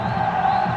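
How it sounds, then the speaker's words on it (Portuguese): Fluminense supporters at the Maracanã stadium chanting during a 1999 Série C match against Náutico: a steady, distant crowd roar with sustained chanting voices, continuous for under a second. "Torcida do Fluminense fazendo a sua parte. Gritando Nense, Nense, Nense no Maracanã."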